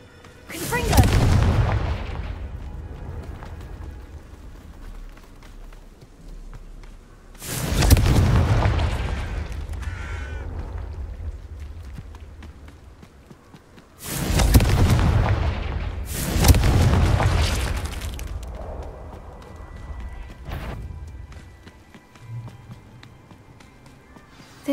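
Confringo blasting spell explosions in Hogwarts Legacy: three loud booming blasts spaced several seconds apart, each with a long rumbling tail, plus a fainter fourth burst near the end; a voice speaks briefly.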